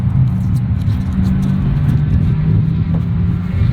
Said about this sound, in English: It's just so loud out here with everybody running on the track here.